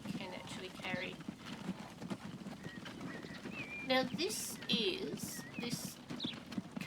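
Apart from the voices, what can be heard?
covered wagon pulled by two horses, Transport Fever 2 video game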